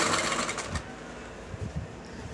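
A sewing machine runs briefly while top stitching a straight line of fabric, a close, steady mechanical whir for under a second before fading to quiet handling noise.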